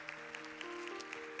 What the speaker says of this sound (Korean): 잠깐 일어날 때 우리 좀 마음을 담아서 축복의 박수를 함께 보내드립시다